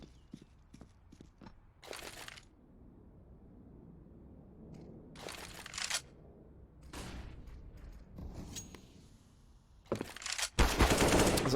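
Bursts of automatic rifle spray in Counter-Strike on the Overpass map, several loud rapid volleys separated by quieter stretches of footsteps and game ambience, ending in a heavy sustained burst.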